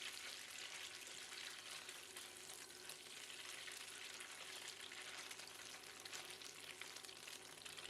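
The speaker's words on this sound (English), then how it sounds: "Fry the tofu for about 2 minutes or until they are slightly brown around the edges." Tofu fries in prawn-flavoured oil in a pan, giving a steady, faint, even sizzle and crackle that runs unbroken from start to end.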